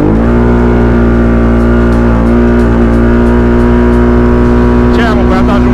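An ATV engine drones loudly and steadily close by with a strong harmonic whine that climbs slightly under acceleration, and a voice speaks over it near the end.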